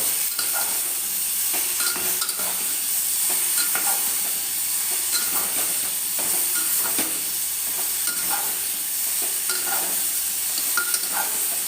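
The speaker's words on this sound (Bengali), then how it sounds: "এবার ভালো মতন এটাকে কষিয়ে নেব।" Curry masala being stir-fried and simmered down in a pan for a rohu fish curry with potato and pointed gourd, a constant close sizzle and hiss broken by regular scraping strokes of a spatula, with no talking.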